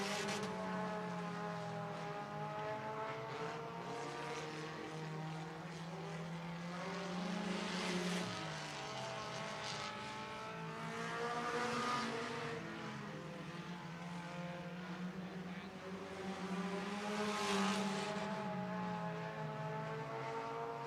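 IMCA modified race cars circling Sunset Speedway Park in a feature race, a steady layered engine drone that swells and fades as the pack sweeps past, moderately distant and continuous.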